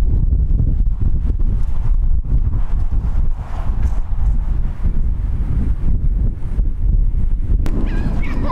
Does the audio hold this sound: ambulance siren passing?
no